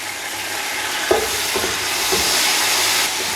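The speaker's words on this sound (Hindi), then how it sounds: "ताकि ये वाला लहसुन भी भुन जाए और कोई कच्चापन ना आए लहसुन का" Garlic and garlic paste fry in a pan for a Lahori bong salan, giving a steady loud sizzle with a few soft clinks and scrapes as a spoon stirs through.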